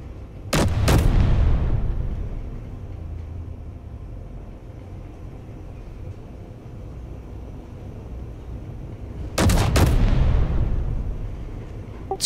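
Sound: turret gunfire in the video game Space Engineers

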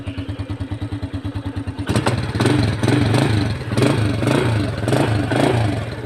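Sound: motorcycle engine running

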